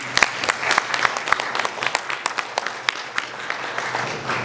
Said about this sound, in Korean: 이승도 대표님께 그동안 고생하셨다고 박수 한번 보내주시기 바랍니다.